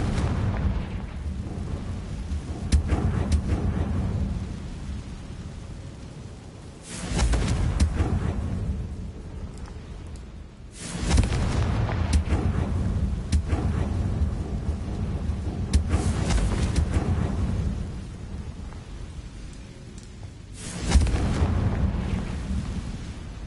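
Repeated Confringo blasting-curse explosions in the video game Hogwarts Legacy, several loud booming bursts a few seconds apart, each with a deep rumbling tail and no talk.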